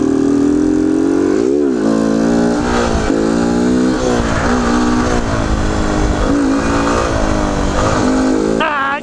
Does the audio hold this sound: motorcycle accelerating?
yes